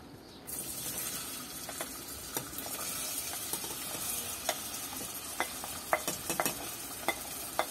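Chopped onion hits the oil in a pot and breaks into a steady crackling sizzle, peppered with scattered spits and pops that grow livelier toward the end, no voices.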